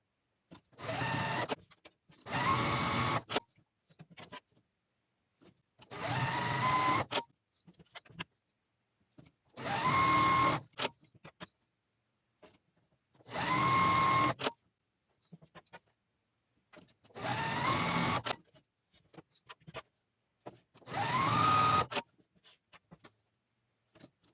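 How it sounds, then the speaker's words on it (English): A sewing machine stitching quilt squares together for a scrap placemat runs in seven separate bursts of steady whirring, each a second or two long, with short quiet pauses between them. "you're going to just sew each of the squares together"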